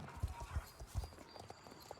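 Horse hooves clip-clop in the Star Stable Online video game, a steady walking rhythm of about five soft, close thuds over two seconds, heard alone without talk.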